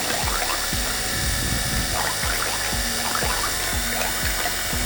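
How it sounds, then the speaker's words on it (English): A cheap pressure washer spraying water through its nozzle makes a continuous loud hiss and gush, with repeated low thumping pulses from the pump underneath. "I started testing the nozzles with water before we go with fuel."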